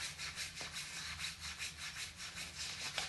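Soft, rhythmic rubbing of hands over skin during a lymphatic self-massage, close and quiet, with steady back-and-forth strokes repeating several times a second.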